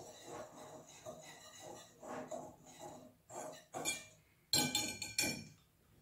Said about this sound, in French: On mélange le tout à nouveau.